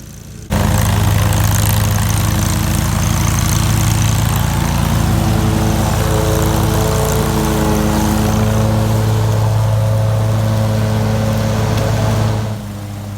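A John Deere Z930M zero-turn mower chops and mulches a heavy layer of leaves, its engine and deck blades droning loud and steady, with a shifting low hum, after starting abruptly and dropping off near the end.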